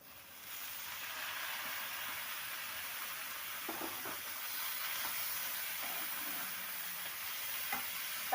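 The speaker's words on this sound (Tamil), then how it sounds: "இப்போது தக்காளி சேர்த்து வதக்கிக்கலாம்." Tomatoes sautéing with golden-browned onions in a pan for chicken sukka, a steady close sizzle and hiss of frying that runs throughout with faint scraping stirs, no talk.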